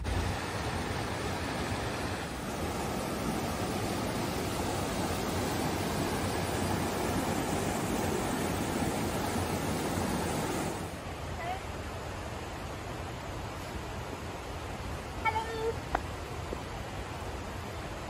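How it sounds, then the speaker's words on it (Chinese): Steady broadband rush of stream water flowing through South Mountains State Park in North Carolina, continuous and moderately loud, dropping somewhat quieter partway through with faint voices and small sounds near the end. "来，我们来听一下流水的声音。"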